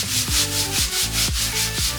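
Bricks for a DIY wood stove hearth are rubbed and polished by hand in rhythmic back-and-forth strokes, about four gritty scraping passes in two seconds, close and steady with no talking.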